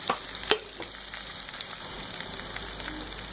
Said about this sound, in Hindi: इन्हें भी 1 से 2 मिनट हम फ्राई कर लेंगे।